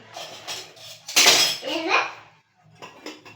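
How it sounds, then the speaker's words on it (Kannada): Metal dishes clatter and clink close by for a few seconds, with a brief burst of scraping and a voice nearby. "ಪಾತ್ರೆ ತೊಳ್ತಾಳಂತು."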